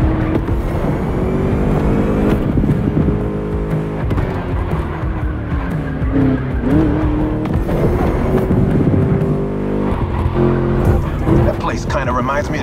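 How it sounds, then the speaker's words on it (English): A V8 muscle car in The Crew Motorfest races around a track, its engine revving loud and close and rising and falling through the gears, while a voice talks over it. "Just listen to that V8, like a chonky, down-tuned guitar riff"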